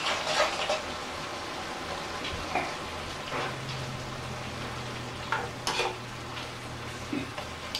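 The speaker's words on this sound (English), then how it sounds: "All right, so pasta goes in. Let me give it a nice stir." Pasta is stirred in a pan with arugula for a simple pantry dish. Soft scraping and a quiet, constant sizzle come from close by, with a few brief clatters of the utensil.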